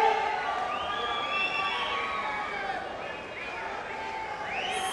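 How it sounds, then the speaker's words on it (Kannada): Crowd at a producer's birthday celebration cheering and shouting amid a loud, steady roar of many voices, with whoops rising over the din while people talk throughout. "ಬಲ್ಲಿ ಜೋರಾದ ಚಪ್ಪಾಳೆ"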